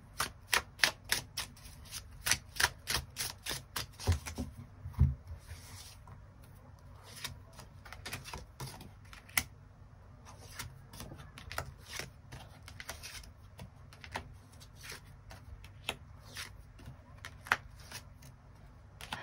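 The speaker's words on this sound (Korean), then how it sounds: "추가 카드 뽑아보도록 하겠습니다" Tarot cards are shuffled and drawn: a quick run of close, rhythmic riffling snaps at first, followed by sparser soft card flicks and taps against a quiet background.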